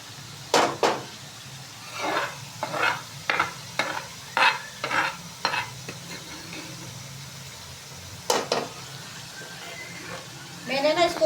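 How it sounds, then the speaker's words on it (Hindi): Ground ginger, garlic and chillies fry in a pan for an aloo chicken dish with a low sizzle. A spoon scrapes and stirs in a rhythmic series of clacks, and a voice speaks briefly near the end. "ये अदरक लहसुन जो मैंने पीसा था ना, मिर्चे, वो इसके अंदर हम डालने लगे।"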